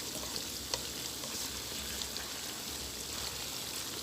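Shredded pork floss fries in a pot while being stirred continuously, giving a dense, steady sizzle and crackle with soft scraping, close and unbroken, with no talking.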